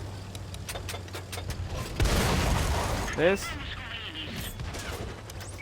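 A Bernardini CCL X1 shotgun fires in a shooter game, a loud blast standing out around the middle amid ongoing game noise and a short chirping effect, while someone speaks over it.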